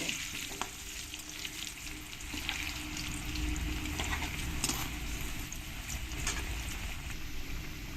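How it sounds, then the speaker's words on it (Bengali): Potatoes tinted with turmeric frying in hot oil until reddish for a chicken jhol, a continuous close crackling sizzle with scattered pops and occasional stirring scrapes. "আলুগুলোকে একটু ভালো করে আমি লাল লাল করেই ভেজে নেব"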